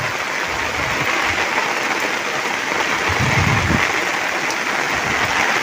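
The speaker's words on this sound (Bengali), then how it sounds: "ঝুম বৃষ্টি আর খেতে কত পানি দেখেন" A heavy downpour drums on waterlogged crop fields in a steady, loud wash of hiss, with brief low gusts of wind noise mixed in and no voices.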